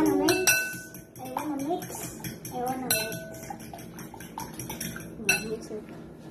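A spoon clinks and scrapes against a bowl as ingredients for vegetable bread toast are mixed, a run of bright metallic taps and rattles, with voices, one a child's, talking over it.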